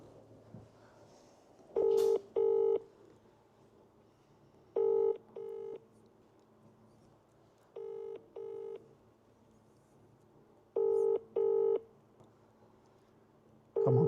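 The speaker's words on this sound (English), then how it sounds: "let's see if Carly is going to answer the phone" A UK-style double ringback tone sounds during an outgoing phone call placed in a live Sunday lottery draw: four pairs of rings pulse at a steady rhythm over a low background hum.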